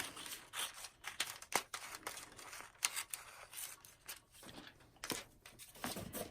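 Scissors snip repeatedly at paper or a strip of material, producing quiet close crisp cuts in an irregular rhythm with small crinkles between them.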